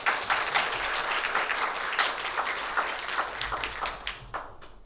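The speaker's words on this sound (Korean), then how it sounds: "감사의 박수 하겠습니다" Thank-you applause in a university chapel service following a piano accompaniment, a steady round of many hands clapping that slowly thins toward the end.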